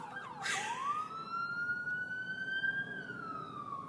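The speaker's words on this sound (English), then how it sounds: "Okay, that's an ambulance." An ambulance siren passes nearby, a loud wailing tone that sweeps upward and holds steady across the whole stretch, with faint traffic rumble underneath.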